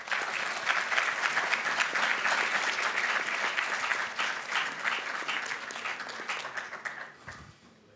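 Sustained audience applause greets an honored speaker at a prize lecture, dense and steady clapping from a large crowd that fades out near the end.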